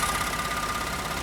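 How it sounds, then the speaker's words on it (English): Truck engine idling steadily up close, its direct injection ticking away in an even, fast clicking pattern over a low rumble. "Pretty much all you hear is the direct injection click"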